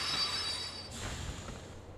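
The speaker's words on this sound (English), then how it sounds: "A train came from the beach." A train arrives in the video game Kingdom Hearts 2: a steady rolling rumble with thin high squealing tones early on that fade as the noise broadens over two seconds.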